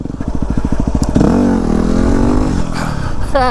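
A Yamaha WR250R motorcycle engine chugs in rapid pulses, then revs up and holds a rising, loud drone before dropping back near the end with a brief whine.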